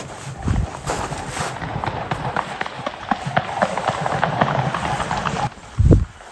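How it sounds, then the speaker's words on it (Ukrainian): A swan takes off from water near a forest, rapid heavy wingbeats and feet slapping water in a rushing, rhythmic flurry, with outdoor background noise. "Чуєте який звук? Це лебідь злітає."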